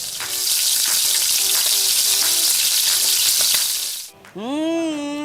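Fried shallots sizzle loudly in hot oil, a dense continuous crackling hiss with faint stirring clicks, then the sizzle cuts off abruptly near the end and a short tonal sound follows.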